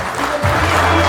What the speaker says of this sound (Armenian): Շնորհակալ ենք ծափերի համար